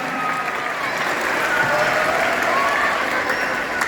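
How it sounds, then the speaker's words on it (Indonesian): A crowd in a university auditorium applauds steadily at the opening ceremony of a karate tournament, dense, sustained clapping at even loudness with a faint murmur beneath. "Tepuk tangan semuanya."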